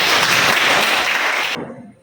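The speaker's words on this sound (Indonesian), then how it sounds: "tepuk tangan untuk kita semua dulu" Brief burst of clapping from a classroom audience, a dense patter lasting about a second and a half before cutting off abruptly into near silence.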